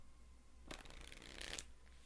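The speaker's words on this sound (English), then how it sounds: "I'm going to shuffle this one up first." A deck of angel oracle cards is shuffled once, a brief soft riffle of cards lasting under a second in a quiet room.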